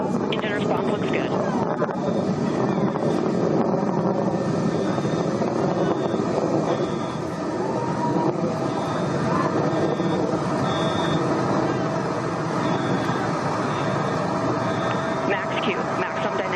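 Blue Origin rocket climbing through max dynamic pressure on a crewed suborbital flight, its BE-3 engine returning to full throttle: a dense, steady, loud roar throughout.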